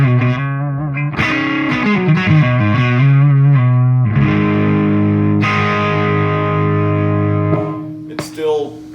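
Electric guitar with humbucker and P90 pickups through the normal channel of a Soldano SLO-100 amp, preamp at 6, giving a dirty, pushed tone: chords and sustained notes ring loud and close, fading out near the end.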